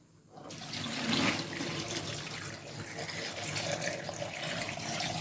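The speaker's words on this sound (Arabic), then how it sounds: "نحط بقى دلوقتي الميه دي على البرطمان الكبير بسم الله." Water pours steadily from a vessel into a large glass jar of lemons being pickled at home, a continuous splashing, gurgling stream that starts abruptly and fills the clip without talk.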